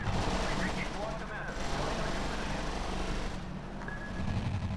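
Battle gunfire in the real-time strategy game R.U.S.E.: a dense, continuous rattle of machine-gun and rifle shots with distant booms, steady and loud throughout, under faint radio-style voice chatter.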